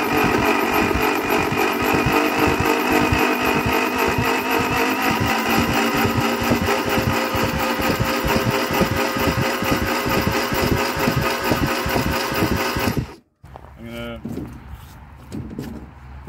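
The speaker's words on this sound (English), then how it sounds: "try and get it moving easy, because chances are that starter on battery isn't going to drive that stiff engine with compression" A stiff 1965 Opel Kadett B coupe engine, off the road for 37 years, is cranked in a steady rhythmic chug for about thirteen seconds before cutting off abruptly, followed by a voice speaking.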